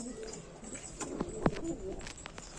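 Pigeons coo softly in a loft near a nesting pair whose eggs have been removed, with a few short low calls standing out over faint background noise.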